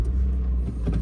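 A 2007–2008 GD3 Honda Fit Sport fitted with an Injen cold air intake drums along in a low, steady engine hum, a brief close interior snippet without speech.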